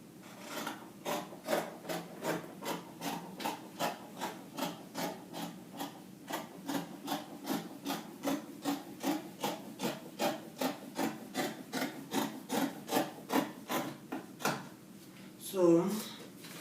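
Scissors cut through fabric for a gown with a steady series of about thirty rhythmic crisp snips, close and moderately quiet, ending with a short louder rustle.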